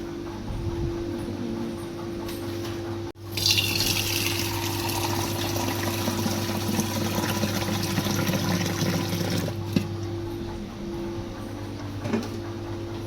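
A steady hum runs throughout, then water gushes from a tap for hand washing with a continuous splashing rush for several seconds before cutting back to the hum.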